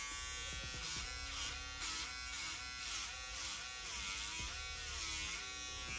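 A Stylecraft Uno single-foil electric shaver runs with a steady, loud, high-pitched motor buzz, heard up close and continuous.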